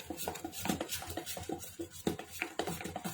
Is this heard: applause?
no